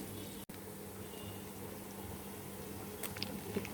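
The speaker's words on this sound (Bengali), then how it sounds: "পেঁয়াজটা ভেজে নিচ্ছি। ভালো করে ভেজে নেব, লাল লাল হওয়া পর্যন্ত।" Sliced onions fry in hot oil in a pan until reddish, a steady close sizzle and hiss that runs throughout, broken only by one brief dropout, with a few small pops near the end.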